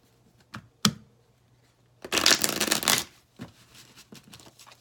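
Tarot cards are shuffled close by: a few light riffles and taps, then a dense, loud one-second riffle burst, followed by softer flicks, with no talking.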